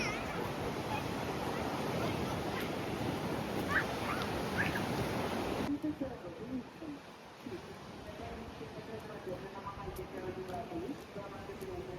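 Sea surf rolling onto a beach at Chornomorsk during a storm, a steady broad wash of waves with wind over the microphone, loud in the first half and then softer and more distant, with faint voices in the background.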